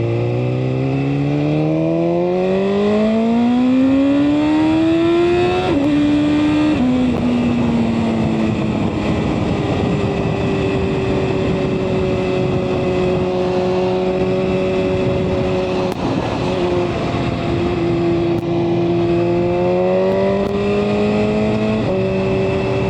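A 2024 BMW M1000RR superbike engine runs loud and close throughout, its pitch climbing through revs, dropping at shifts and settling into a steady, harmonic-rich drone with no talking.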